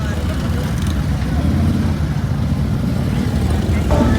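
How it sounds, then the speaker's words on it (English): Motorcycles and other traffic rumble continuously at a big motorcycle festival, Burapha Pattaya Bike Week 2024, a steady dense engine drone with voices mixed in throughout. "Bikes coming in, bikes going out"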